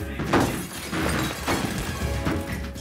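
Glass shattering as a prisoner trapped between two doors thrashes and breaks through, heavy crashing and smashing bursts with thuds recurring over about three seconds, loud and close.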